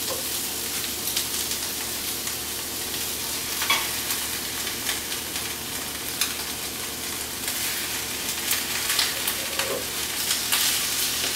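Spinach and vegetables for a quinoa salad are stirred in a hot pan, giving a dense continuous sizzle with soft scattered scrapes throughout, close and steady.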